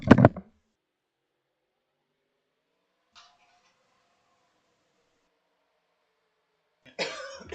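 A motorsport commentator with a sore throat coughs once sharply into the microphone, then near-silence follows with a faint small sound, before another short burst of coughing at the end.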